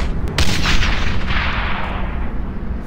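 Loud, dense gunfire and booming explosions from a World War II shooter game, Brothers in Arms: Hell's Highway, rolling continuously with sharp cracks at the start and a heavy rumbling blast carrying through.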